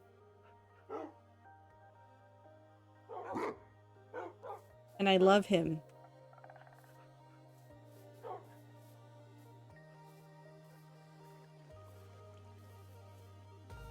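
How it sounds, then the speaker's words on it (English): A dog in a video game barks in short, scattered bursts and lets out a whimper, the calls sharp and close over a quiet musical background, with someone speaking briefly between them. "say hello to our newest dog"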